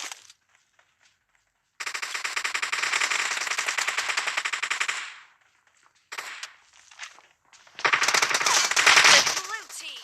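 Pistol gunfire in a team deathmatch video game comes in loud, rapid bursts: one sustained volley of about three seconds, a short scattered spell, then another dense burst near the end, with quiet gaps between.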